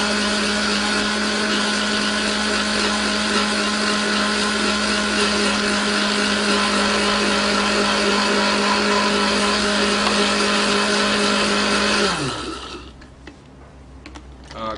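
Kitchen blender whirring through a ginger dressing with olive oil, a loud steady high-pitched motor whine that runs for about twelve seconds, then winds down and cuts off.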